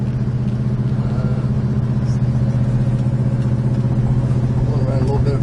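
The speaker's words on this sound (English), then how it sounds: "nice running car. Got a nice sound to it, nice rumble." Low, steady engine rumble from a 1969 Plymouth Road Runner cruising down the road, a continuous loud drone with strong low harmonics and no pauses for the full stretch.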